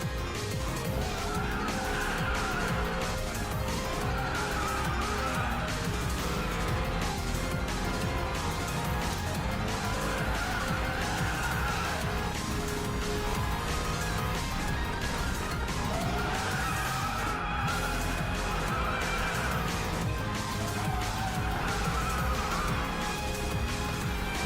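Mercedes-AMG GT R drifting in the Racing Master mobile racing game, with a steady engine roar and a continuous, loud tire squeal that rises and falls through repeated skids, with no voices over it.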